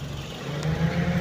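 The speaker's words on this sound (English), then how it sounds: "I hope you can hear me over the engine" Scion xB engine running at a steady idle with a DC catback exhaust, a low, even hum close by and fairly quiet, with no talking.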